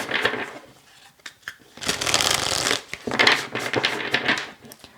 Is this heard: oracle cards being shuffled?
yes